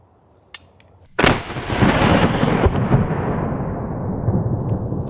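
A single loud shot from an Investarm Hawken Hunter .50 black powder rifle loaded with a heavy bullet and a large powder charge, a sudden close blast after a quiet moment, followed by a long rolling boom that slowly fades.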